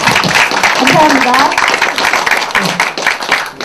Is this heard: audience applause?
yes